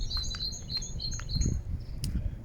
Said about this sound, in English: birds flying right next to me